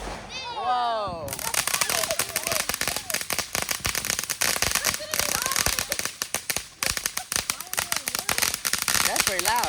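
Home fireworks on the Fourth of July pop and bang loudly in rapid irregular bursts, cracking close by for several seconds, with a brief voice exclaiming just before the barrage starts.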